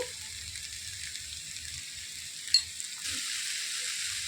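Tamarind leaves and onion curry sizzle softly in a pan, with a faint steady frying hiss and a brief stir partway through.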